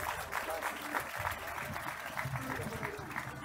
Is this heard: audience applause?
yes